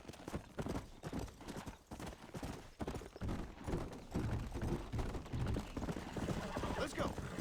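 Horse hooves clip-clop steadily in Red Dead Redemption, a busy run of close, loud hoofbeats with creaks and tack rattle, a brief whinny-like sound blended in.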